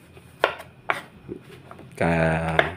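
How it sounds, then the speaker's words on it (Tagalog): A knife chopping garlic cloves on a cutting board, three crisp close taps and a softer one, then a sustained tonal hum at the end. "Tiyagaan ko maghiwa ng bawang."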